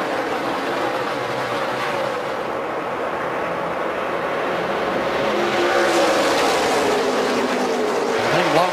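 NASCAR Nationwide Series race cars roar together at a green-flag restart at Chicagoland in the 2012 Dollar General 300, a loud, continuous engine drone with rising pitch as the pack accelerates.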